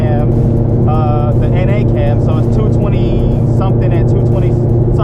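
An LS3 V8 with a stage 2 BTR naturally aspirated cam runs at a steady, loud, lumpy idle rumble. Someone talks over it throughout.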